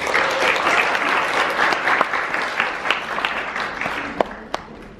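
Applause from a studio audience fills the room for about five seconds, dense and steady at close range, a few sharper claps standing out near the end as it fades slightly.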